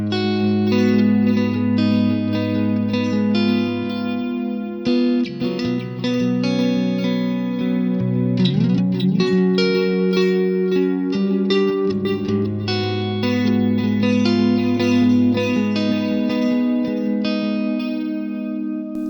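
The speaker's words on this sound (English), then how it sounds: "That also has the mag delay on it." Clean Strat-style electric guitar through a Bassman amp model and British 2x12 cab with mag delay, playing sustained chords and picked lines that trail into ambient echoes, steady and close with no voice.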